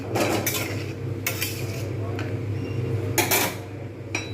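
A metal lid goes onto a cooking pot of khichdi with sharp clanks and clinks over a steady low kitchen hum.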